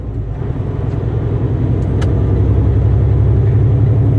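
Truck engine pulling away after a gear shift, a close, loud diesel-like rumble with a steady throbbing pulse that builds gradually as it gains speed, no speech.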